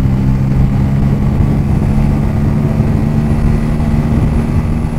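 A 2024 Bajaj N160 motorcycle running hard in fourth gear on the road, its engine a steady loud low drone with dense rumble and wind noise, sustained without a break.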